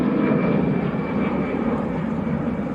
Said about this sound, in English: EasyJet getting airborne, A320.